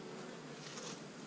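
Honeybees hum around a two-frame nuc hive, a dense, steady buzz heard close by for a brief moment, with no voices.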